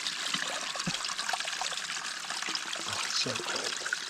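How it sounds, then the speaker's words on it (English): A small, cold, clean mountain stream runs through trees in Colorado elk country, a steady close trickle and babble of water with a few brief louder splashes. "we found this little tiny stream that runs through these trees here"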